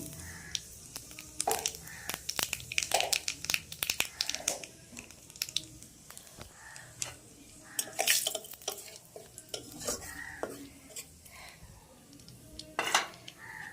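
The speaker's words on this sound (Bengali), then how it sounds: "তেল গরম হয়ে গেছে, এই যে কালো জিরে ফোড়ন দিয়ে দিলাম।" Nigella seeds tempering in hot oil in a pan for a hilsa fish and taro dish, with repeated clinks and scrapes of a utensil stirring against the metal pan over a faint sizzle, close and busy throughout.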